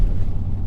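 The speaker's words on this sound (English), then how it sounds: "Here we are driving the truck around." A 2018 Chevrolet Silverado 5.3L with Speed Engineering headers and true dual exhaust, heard from inside while driving as a brief low steady exhaust rumble.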